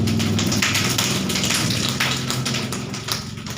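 A group of people tapping two fingers against a palm in unison, a dense patter like rain that stays close and loud throughout, slowly easing off toward the end with no talking.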